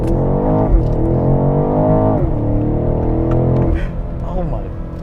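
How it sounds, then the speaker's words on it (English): Revving 2020 BMW X6 M50i engine in Sport Plus with foot on brake and accelerator, a loud sustained engine tone rising in repeated sweeps, with a brief voice near the end. "Now I'm gonna do Sport Plus. So I'm gonna put my foot on the brake and accelerator."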